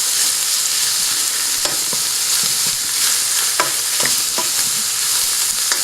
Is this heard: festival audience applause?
no